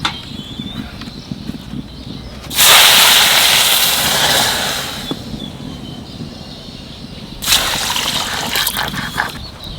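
Water poured from a cup onto sugar in a pan for jalebi syrup, two loud splashing pours separated by a quieter gap, close by with a faint background hum.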